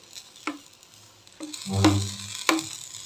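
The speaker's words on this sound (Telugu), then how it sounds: "ఇప్పుడు కొద్దిగా మరి పైన ఆయిల్ వేస్తున్నాం" Pesarattu, a green gram crepe, sizzles on a hot pan as oil is poured over the top, with soft crackling, a few light taps and a swelling burst of frying near the middle, close up and with no talking.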